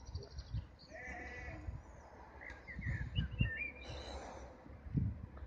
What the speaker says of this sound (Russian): Вот такие вот классные овцы.